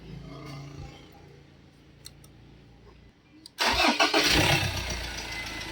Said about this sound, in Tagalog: start mo siya.